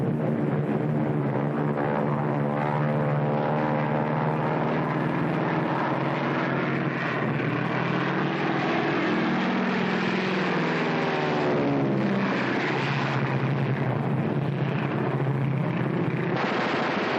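A World War II fixed-wing aircraft drones steadily in flight, its engine tone loud and sustained throughout with shifting harmonic pitch and no voices.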